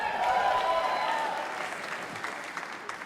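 Audience applause at an arts school commencement ceremony, a broad steady wash of clapping from a large crowd that swells early and then slowly tapers, heard at moderate level without any talk over it.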